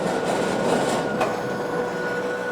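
A Toro e26 60-volt battery two-stage snow blower runs continuously nearby, a steady mechanical whir and rumble with a constant tonal hum and no talking.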